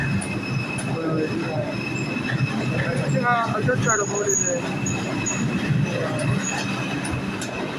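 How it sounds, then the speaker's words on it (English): A passenger train running on rails, with steady rumbling and rolling wheel noise throughout, brief squealing tones midway, and a person speaking over it. "I was trying to get on this train."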